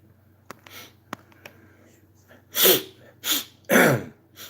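Someone with a deviated septum and breathing problems sniffles sharply through the nose three times in close succession after a few faint clicks, loud and close in a quiet room.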